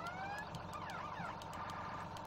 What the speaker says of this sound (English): And we'll check out the sirens.